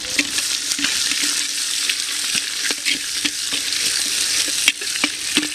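Onions and garlic fry in a clay pot for chicken biryani, giving a steady, loud, close sizzle with occasional crackles and soft stirring scrapes, no voices.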